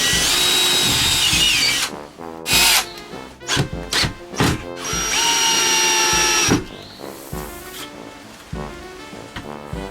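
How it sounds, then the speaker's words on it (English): A cordless power drill pre-drills holes while a Larson storm door is installed, whining loudly in several bursts that start and stop, with sustained runs and short pauses between them, close up and with no talk. "I'm going to pre-drill the holes."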